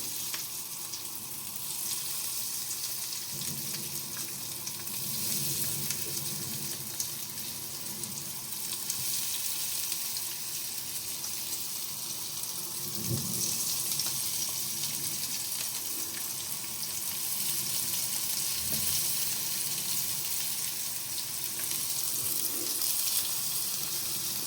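Yellow zucchini sticks fry in hot oil in a pan, producing a continuous broad sizzling hiss at moderate level for about twenty-five seconds, with occasional faint knocks underneath.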